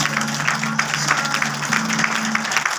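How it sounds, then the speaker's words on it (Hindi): Audience applause in an office welcome session, steady dense clapping from a crowd with a low hum underneath. "बार अगेन जोरदार ताली जरूर बजाएंगे।"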